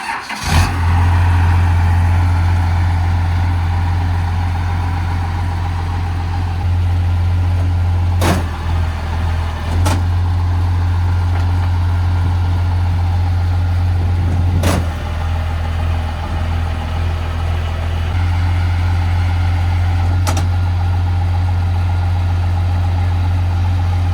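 A 12-valve Cummins diesel swapped into a 1964 C60 wrecker truck idles steadily and loud after a brief start at the beginning, with a deep constant rumble and a few sharp clicks along the way.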